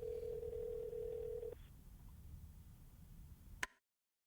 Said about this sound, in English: I dial out and press my phone to my ear